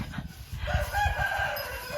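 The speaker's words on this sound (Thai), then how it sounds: "โอ้เด็กน้อยไล่ไก่" Chickens on a village farm crow and cluck at moderate distance over a low outdoor rumble, with no one talking.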